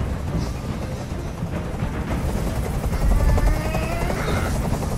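Helicopter hovering overhead in the video game Detroit: Become Human, a loud, continuous rotor chop and engine rumble that swells slightly, with no talk.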